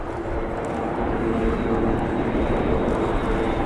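An Airbus A400M Atlas military transport flies an airshow display at RIAT 2025, its engines a loud, steady, broad roar that holds constant throughout.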